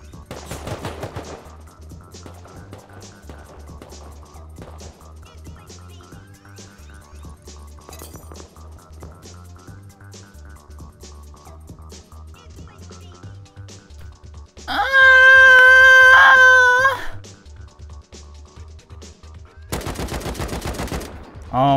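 Gunfire in the Rust survival video game: rapid, steady automatic fire rattling continuously, with a louder tonal effect flaring midway and a sharp burst near the end.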